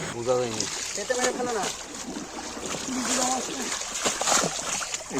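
Nineteen-day-old bata fish fingerlings are let back into a farm pond from a net, with intermittent soft splashes and sloshing water under steady talking.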